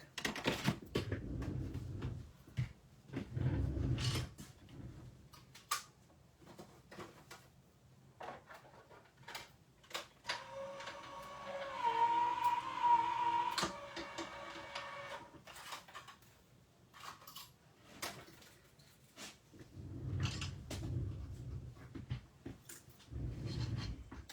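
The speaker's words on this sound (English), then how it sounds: "I'm going to run this through my machine real quick" A papercraft wreath card is cranked through a manual embossing machine at a crafting table, giving a steady mechanical grinding and whirring pass of about three seconds between quieter clicks and handling noises.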